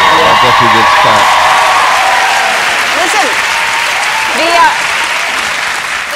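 On a morning show, a studio audience breaks into loud, sustained applause that fills the room and slowly tapers, with voices cheering and talking over the clapping.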